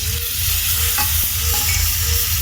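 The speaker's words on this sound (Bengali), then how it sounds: "কাঁচা লঙ্কা বাটা দিয়ে ভালো করে নেড়ে চেড়ে কষাবো।" Ginger, onion, garlic and tomato paste with green chilli paste frying in a pan, a loud steady sizzle with scraping spoon strokes stirring through it, close up, no voices.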